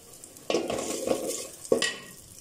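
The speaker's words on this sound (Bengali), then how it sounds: "চিংড়ি মাছটাকে একটু করে ভেজে নেব আমি লবণ দিয়ে" Shrimp frying with onion and salt in a pan for a bottle-gourd curry, a steady close sizzle broken by two sharper bursts of stirring scrapes, with no talking.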